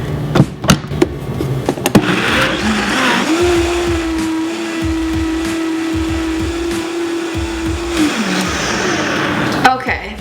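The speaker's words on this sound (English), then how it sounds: "all I'm gonna do is pop the lid on and blend it on high speed" A blender whirring on high speed through butternut squash soup, a loud steady motor drone held for several seconds after clunky handling sounds, then winding down.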